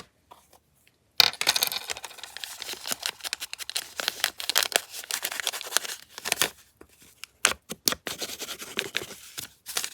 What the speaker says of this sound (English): This type of paper is notorious for ripping that weird last corner